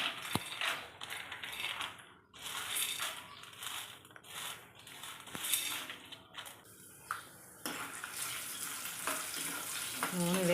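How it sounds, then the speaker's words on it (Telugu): Peanuts dropped into hot oil for temple-style pulihora, crackling and sizzling in bursts with clattering stirs and scraping, fairly faint and close. "ఆయిల్ అయితే వేడెక్కింది ఇందులో వేరుశనగ పులుపు ఇవన్నీ వేసేస్తున్నాను ఒకదాని తర్వాత ఒకటి"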